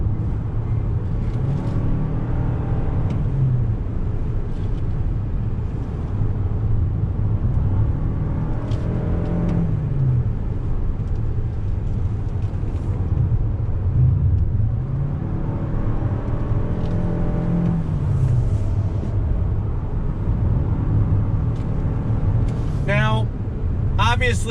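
A 2021 Toyota Venza hybrid SUV with an ECVT driving under throttle, a steady low engine and road hum that swells and settles, with someone talking over it throughout.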